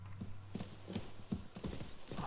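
Horse hooves clip-clop at a steady walking pace in the medieval game Kingdom Come: Deliverance 2, about six distinct near footfalls over a low background hum, with no talk.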